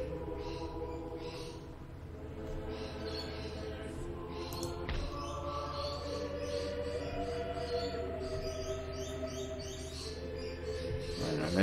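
Birds chirp and twitter steadily in the background throughout, fairly faint and continuous, with no talking.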